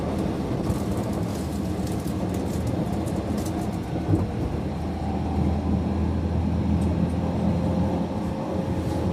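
A regular Japanese passenger train running at speed and slowing down, heard from inside as a steady low rumble with rail clatter and airy hiss, continuous and even throughout.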